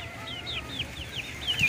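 Young chickens and turkeys in a crowded brooder pen cluck and peep, a string of about eight rising chirps over soft, low clucking, close by and fairly quiet, with no voices.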